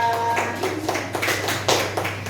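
A school class claps for a presenting group, giving a short run of soft, quick hand claps at moderate distance over a steady background hum.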